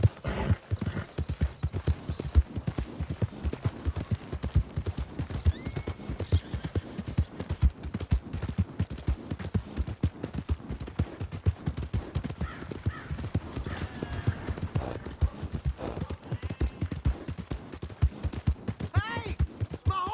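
Horse hooves clip-clop steadily in Red Dead Redemption 2 on PS4, a continuous rhythmic trot of fairly quiet, close hoofbeats lasting about twenty seconds, with a brief whinny-like sound near the end.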